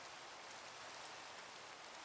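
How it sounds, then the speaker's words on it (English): Rain falls in the Minecraft video game as a soft, steady hiss of countless drops, faint and continuous with no voices over it. "It's also raining right now."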